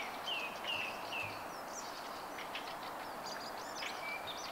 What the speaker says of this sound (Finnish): Linnut laulelee ja niin poispäin.